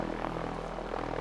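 An aircraft engine in the video game Sunkenland runs at regular throttle, giving a steady, loud propeller drone with no breaks.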